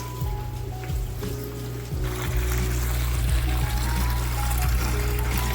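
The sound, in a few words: water siphoning through hose in fish room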